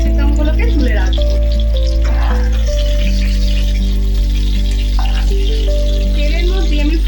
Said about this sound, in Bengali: তেলের মধ্যে আমি ফোড়নের জন্য নিয়ে নিয়েছি গোটা গরম মশলা, একটা দারচিনি নিয়েছি, 3টে লবঙ্গ নিয়েছি আর 4টে এলাচ নিয়েছি